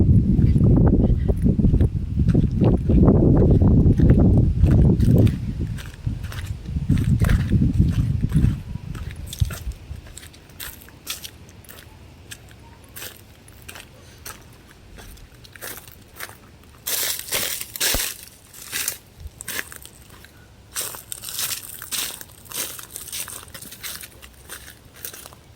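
Footsteps crunch loudly through dry brush in the Bosque woodland along the Rio Grande, a dense run of crackling steps that fades to sparser, quieter scuffs and snaps outdoors.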